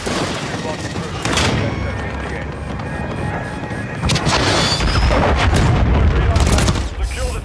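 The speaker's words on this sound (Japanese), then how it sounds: "まあ、空爆で。" Airstrike explosions in Call of Duty: Modern Warfare 3 multiplayer: loud booming blasts and crashing impacts over dense gunfire, building to heavier bursts in the second half, with voices talking over the action.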